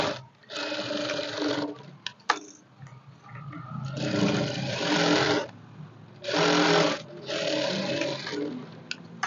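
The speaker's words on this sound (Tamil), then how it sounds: "ரெண்டு தையல் கிட்ட நான் போட்டுக்கிட்டேன்." A sewing machine stitching a blouse runs in several steady bursts of fast mechanical whirring, separated by short pauses, close up and clear with no talking.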